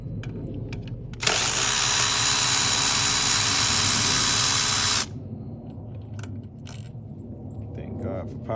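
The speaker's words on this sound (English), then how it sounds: "Thank God for power tools." A power tool spins out fuel injector bolts on a 1998 Mitsubishi Montero Sport, a loud steady high whir running about four seconds before stopping abruptly, close by, with faint workshop noise around it.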